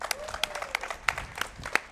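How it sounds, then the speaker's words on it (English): Sparse, scattered claps from a small group at the close of a Hitman: Blood Money speedrun at ESA 2024, faint and irregular, with a brief tone and a bit of background talk. "One more round of applause for Alpha."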